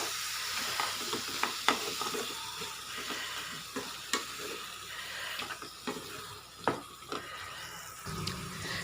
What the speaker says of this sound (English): we'll add the white brinjal. Let it fry nicely again in this masala.